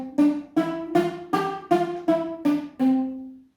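Palm-muted melody on a plucked string instrument, eight short damped notes in a steady rhythm, each with a quick attack and clipped decay, played alone and close.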